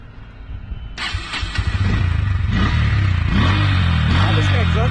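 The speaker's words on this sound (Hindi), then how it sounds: "दोनों ही गाड़ी को स्टार्ट करके देखते हैं और किसका साउंड ज़्यादा बेटर है देखते हैं।" A Bajaj Pulsar N160 motorcycle engine cranks and fires up abruptly, then settles into a loud, steady, throaty idle close by.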